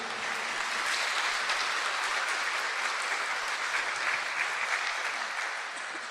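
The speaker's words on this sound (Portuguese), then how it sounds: "merece uma salva de palmas calorosa" A congregation at a Catholic Mass claps warmly in a church, a sustained even roar of many hands lasting several seconds at moderate distance, with no voices over it.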